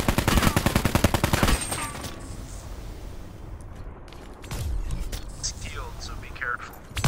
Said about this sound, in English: Shoot him in his face.